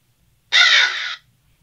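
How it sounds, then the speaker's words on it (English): A single harsh crow caw, a crow sound sample used in a Halloween beat made in FL Studio, loud and close over near silence, lasting about half a second. "Oh yeah, we got to do a crow."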